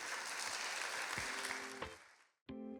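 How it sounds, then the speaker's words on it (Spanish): Applause from a church congregation during a Spanish-language sermon fills the room loudly for about two seconds, then fades out before a short burst of music begins. "¿Cuántos dan un aplauso a ese Dios fiel?"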